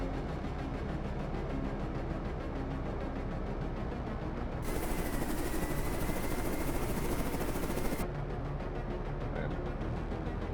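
Aircraft engines in the Carrier Command 2 video game drone steadily, a continuous whirring roar that swells slightly midway before settling again, with no talking.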